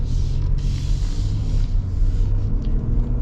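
Engine of a 2026 Nissan Armada Platinum pulling under acceleration, a steady deep rumble with low harmonic drone held throughout, heard from inside the cabin with no talk.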